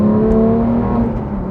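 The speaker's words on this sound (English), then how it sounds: "this Soul exhaust sounds incredible" A loud, deep exhaust rumble from a 2018 Porsche 911 GT3 with a SOUL aftermarket exhaust, holding a steady, throaty drone with a low whir and no voices.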